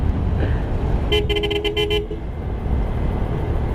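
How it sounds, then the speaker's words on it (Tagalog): A vehicle horn toots in a quick series of short blasts over steady road traffic noise, near a Rusi Pulse 150i motorcycle. "Yan ang pinagkaiba ng malakas ng busina"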